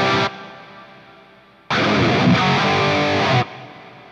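A short electric guitar phrase through an amp modeler, a pause, then a longer strummed passage washed in reverb, its tail ringing out after each stop.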